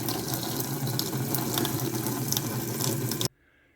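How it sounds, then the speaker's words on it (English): Water gushes steadily from a faucet into a sink while an electric water heater refills after repair, close and continuous, then cuts off abruptly near the end. "faucets are still running, a little dirty water"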